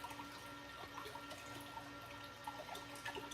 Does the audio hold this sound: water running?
yes